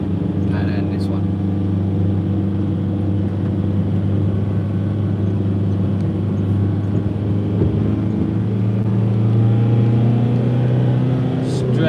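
Engine of a van labouring in second gear, a steady low droning rumble running loud and close throughout, with a slight rise in pitch near the end.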